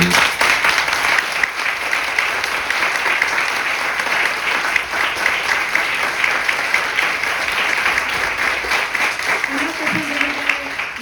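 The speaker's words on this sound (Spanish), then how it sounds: "por favor, un aplauso para ellos." An audience at a live roleplaying festival session applauds, with dense, steady clapping filling the whole stretch without letup.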